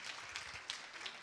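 An audience claps quietly, a faint, scattered patter of hands with a few sharper claps standing out, heard at low level.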